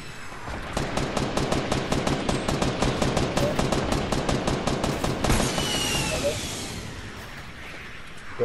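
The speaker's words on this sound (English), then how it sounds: "me shooting." Rapid gunfire in a squad-based shooter video game: a long, steady, evenly spaced automatic burst that fills most of the clip, loud and continuous, then trails off into a duller rumble.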